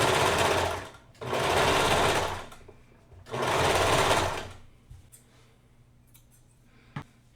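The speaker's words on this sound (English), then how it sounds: "I don't want to put too much strain on this serger" Serger sewing machine serging a tapestry crewneck, two loud bursts of fast mechanical whirring with a short pause between, then quiet handling sounds and a brief click.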